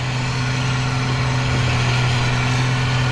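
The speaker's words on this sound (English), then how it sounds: "this here's the machine that we got that has that Deutz air-cooled motor" A Gleaner combine harvester powered by a Deutz air-cooled engine runs steadily close by, a constant low drone with a strong hum and no break across the whole stretch.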